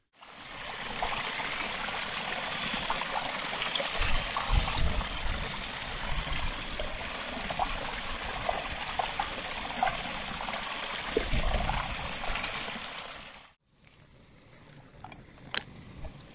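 A fast-flowing stream rushes steadily and loudly close by for most of the stretch, a dense continuous wash of water that cuts off abruptly near the end, leaving quieter outdoor background with a few small clicks.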